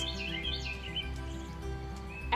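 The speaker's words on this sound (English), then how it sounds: "the birds are chirping" Birds chirping outdoors after rain, light overlapping tweets and short calls clustered early, moderately distant over a steady low hum, with no talking.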